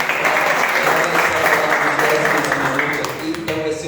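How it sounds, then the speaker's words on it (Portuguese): A church congregation applauds loudly and continuously, a dense wash of many hands clapping in a reverberant room, fading slightly near the end. "quero que vocês recebam com bonita salva de palmas para Jesus."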